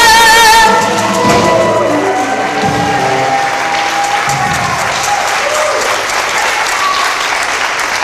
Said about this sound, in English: Round of applause for these